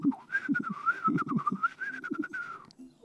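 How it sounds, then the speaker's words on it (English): Someone whistles a wavering, breathy tune that wobbles in pitch, with soft clicks and mouth noises underneath; quiet and close. "he really sucks at whistling"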